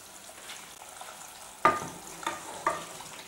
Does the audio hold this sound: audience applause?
no